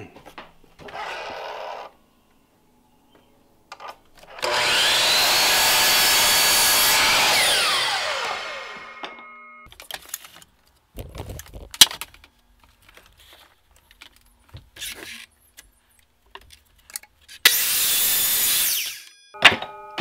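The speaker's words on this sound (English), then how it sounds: "you should just be able to flip your board around and cut the other one" A miter saw cuts a wooden board for a DIY horse stall gate, one loud sustained cut of a few seconds after a brief motor rev, followed by scattered knocks and handling of wood and a final short burst.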